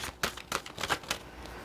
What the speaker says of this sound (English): Sometimes they're hard to shuffle because my hands aren't as long as the cards.